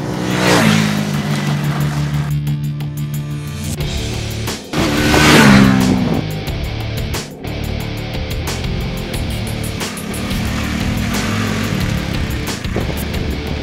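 Bajaj Dominar 400 motorcycle ridden on the road, its engine note rising and falling through several throttle changes and gearshifts, loud and continuous with a brief dip partway through.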